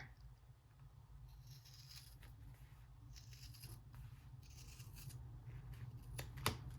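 Scissors snip through old calendar paper for a junk journal. The cutting is faint and soft, with light rustling and a sharper snip near the end, over a low steady hum.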